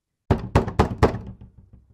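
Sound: knocking at a door, radio drama sound effect

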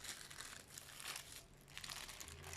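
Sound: plastic bag crinkling while removing soap dough

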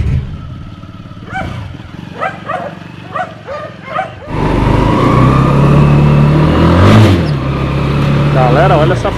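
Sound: homemade 200cc quad bike engine revving

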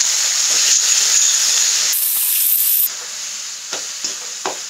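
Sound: ground onion paste frying in hot pan

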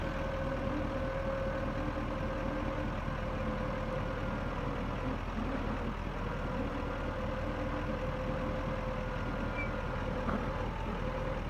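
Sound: idling engine with cooling fan kicked on

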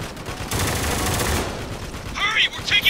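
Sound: heavy gunfire in the video game Spec Ops: The Line

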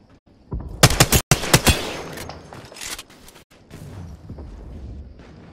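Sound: gunfire in the video game Apex Legends

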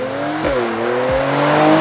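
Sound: 2019 Mercedes-AMG C43 exhaust in Sport Plus mode

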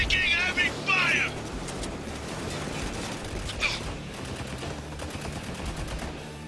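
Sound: heavy gunfire, Spec Ops The Line video game

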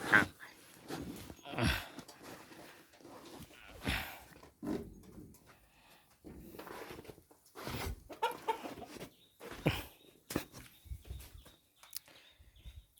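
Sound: chickens clucking on a farm

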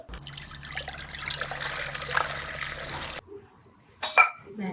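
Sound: washing barnyard millet (bhagar) in water

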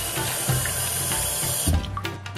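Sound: rice being washed with cold water

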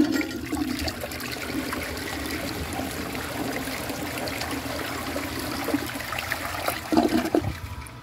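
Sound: 1992 Eljer Preserver toilet flushing

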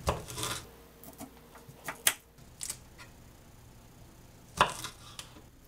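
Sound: knife chopping and quartering Brussels sprouts

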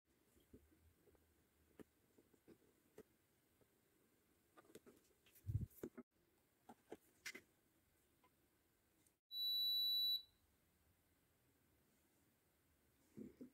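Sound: buzzer signalling resin has cured

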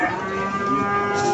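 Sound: Limousin cattle mooing at livestock market

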